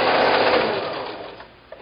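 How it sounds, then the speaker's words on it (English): A sewing machine stitching stacks of quilt fabric strips together, giving a loud, continuous close whir that slowly fades as it stops. "I get my right edges even, and I sew to that point"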